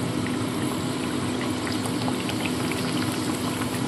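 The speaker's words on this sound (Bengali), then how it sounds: "এক এক করে তেলের মধ্যে ছেড়ে ভেজে তুলে নেব" Dal puri frying one by one in hot white oil on lowered heat, a steady dense bubbling sizzle that holds even and close throughout with no voices.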